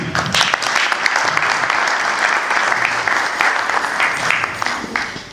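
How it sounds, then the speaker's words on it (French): An audience claps steadily at a Moroccan-American cooking week event, the applause dense and sustained throughout at close range, with no voices standing out. "je demande d'applaudir"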